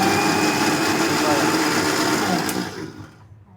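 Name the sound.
mixer grinder blending mango juice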